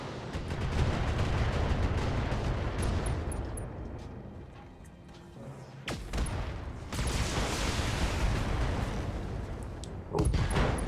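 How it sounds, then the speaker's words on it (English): Missiles and weapon fire in the mech combat game Battletech, heard as a dense, sustained barrage of loud booming impacts and rattling shots, easing briefly mid-way before bursting back in with sharp blasts near the end. "put some missiles in that guy and put the rest of our rounds into that side of that guy"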